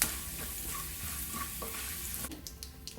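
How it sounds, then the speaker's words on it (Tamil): Chana dal frying in oil with curry leaves and dried red chillies gives a steady close sizzle with light stirring, a brief scrape near the end. "அதில் ஒரு 2 நிமிஷம் கடலைப்பருப்பு நல்லா கலர் மாற வரைக்கும் வறுத்துக்கலாம்."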